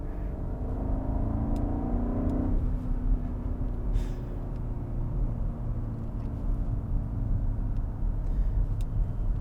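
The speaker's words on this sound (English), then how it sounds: "So now going over a road with a good amount of imperfections, and we're just cruising right over them" A 2023 BMW X7 M60i rolls over an uneven, imperfect road, giving a steady low road rumble and muffled cabin drone with faint bumps and thumps running throughout.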